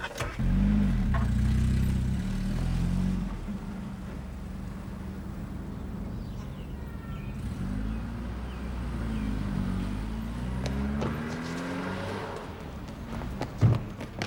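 A car engine labours and accelerates through the gears, a steady mid-pitched drone that rises and shifts in pitch over several seconds, with a brief clatter near the end.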